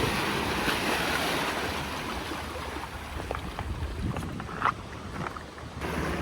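Waves wash onto the rocky shore at Mitsuishi, Manazuru, in a continuous roar, with wind buffeting the microphone and a few sharper splashes.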